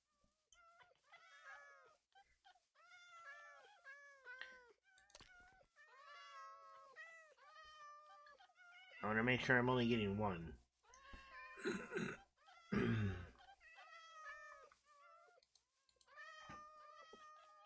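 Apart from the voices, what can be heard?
cats meowing in the video game Minecraft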